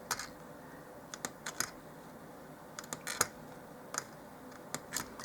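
Knife blade chopping through doll-size French fries on a cutting board, a run of sharp, quiet clicks and taps in irregular clusters, close and faint against a soft background hiss.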